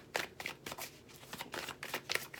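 A deck of tarot cards is shuffled close by, giving a quick series of soft riffling flutters and slaps in an uneven rhythm.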